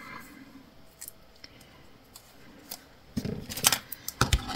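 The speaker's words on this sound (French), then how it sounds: "Des ciseaux tout plein de colle." Glue-sticky scissors snip at scrapbooking paper, starting as faint scattered clicks and then building into a louder run of crisp, rapid cuts and blade clacks close by.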